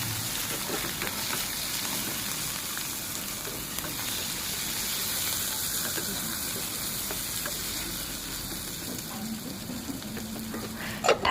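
Chicken curry sizzles and fries steadily in a pan just after a small tomato goes in, a continuous close crackle with occasional stirring scrapes.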